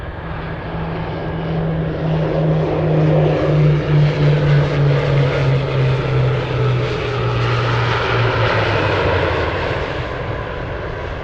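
A Beechcraft 1900 turboprop runs loud and near at an Anchorage airport, its propeller drone steady while the engine pitch slowly falls over several seconds, with no talk.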